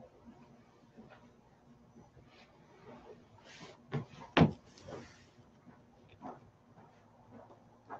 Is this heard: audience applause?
no